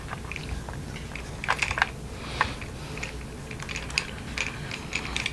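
Small plastic and metal clicks and taps come from an aluminium tripod grip being fitted and locked onto a Zhiyun Weebill S gimbal stabilizer, scattered and close over a soft background hiss.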